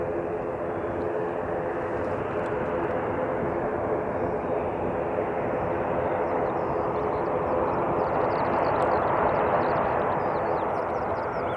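An Air New Zealand aircraft, flight NZ 856 bound for Nelson, departing from an airport, a loud sustained engine roar and rumble that holds steady throughout and swells slightly near the end.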